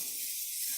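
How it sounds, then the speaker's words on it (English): Cooking spray from a can of Pam hissing steadily onto a preheated grill, a short, even, close burst of airy spray. "make sure you just spray it down with some"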